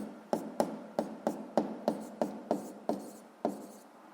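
Chalk strokes on a board while a physics formula is written, about ten sharp rhythmic taps and short scrapes in quick succession, close and fairly quiet, with no talking.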